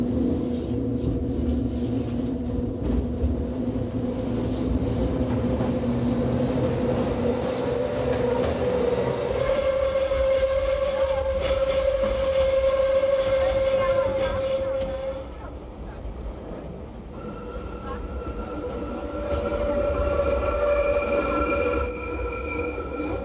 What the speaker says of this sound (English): the train plunges into a tunnel at almost 400 meters